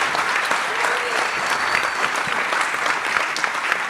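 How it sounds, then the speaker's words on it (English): Audience at the Bitcoin++ Floripa 2026 conference giving a final round of applause for the hackathon finalists: dense, steady clapping from a large room, continuous and fairly loud throughout. "one last massive round of applause for all of our finalists"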